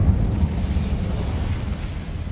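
A fiery Incendio spell blast in the Hogwarts Legacy video game, a loud, sustained low rumbling roar with crackling bursts that holds steady for a couple of seconds before easing slightly.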